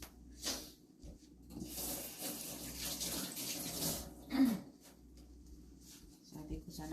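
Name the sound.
running tap water while washing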